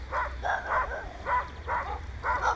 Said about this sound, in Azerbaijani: zirzibil tökdüyü yerinə yığılan itlər.